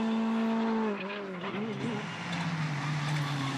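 Škoda Fabia Super 2000 rally car on a Belgian rally stage in Haspengouw, its engine note rising loud and close, then dipping and wavering as it shifts and carries on at speed.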